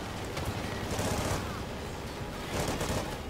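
Rapid bursts of automatic gunfire ring out in a Call of Duty Ghosts campaign mission, several loud volleys in quick succession with brief lulls between them, dense and close.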